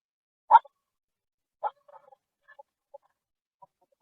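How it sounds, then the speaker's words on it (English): A single dog gives a couple of short, sharp barks, spaced about a second apart, followed by faint scattered yips in otherwise quiet surroundings, heard during a noise suppression demonstration. "You can hear the barking dog"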